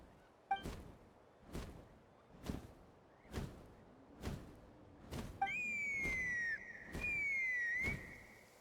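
In a video game, a long, sliding whistle tone sounds twice, stepping down in pitch, after a series of evenly spaced soft thuds like footsteps.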